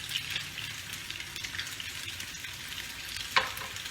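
Fresh katla fish frying in oil, a steady close crackling sizzle throughout with one brief clink of a utensil near the end, no voices.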